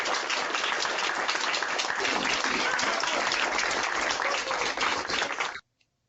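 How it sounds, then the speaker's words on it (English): A dense, loud wash of applause from an audience welcoming Pro Football Hall of Famer Earl Campbell to the microphone, sustained evenly for several seconds before cutting off abruptly to near silence. "can everyone join me and give a warm round of applause in welcoming from the class of 1991, Pro Football Hall of Famer Earl Campbell"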